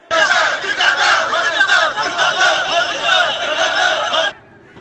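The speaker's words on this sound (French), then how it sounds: "Ils ont pris d'assaut aujourd'hui le consulat général de Paris avec des slogans hostiles au gouvernement de Macky Sall" PASTEF protesters chant hostile slogans outside the Senegalese consulate in Paris, a loud, dense crowd of voices shouting in unison in rhythmic bursts before breaking off abruptly.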